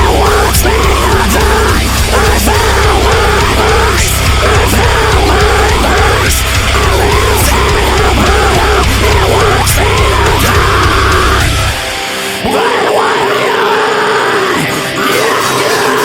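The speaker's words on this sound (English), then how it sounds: "those two fry screaming layers" Two double-tracked layers of fry-screamed metal vocals run continuously with a harsh, gritty, dense texture, then break off briefly near the end before resuming.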